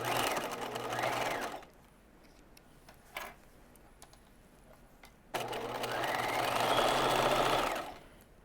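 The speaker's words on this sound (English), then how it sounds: "you're going to kind of need to open out those pant fronts and stitch at 5/8 of an inch" A sewing machine runs steadily while stitching open pant fronts for cigarette trousers, whirring loudly for a stretch, pausing almost silent with a brief click, then starting again for a longer run.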